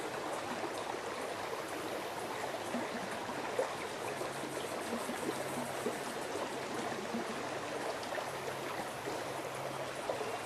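A creek on the Thompson River in Gippsland, Victoria, Australia flows steadily, a continuous close rushing and trickling babble with no pauses.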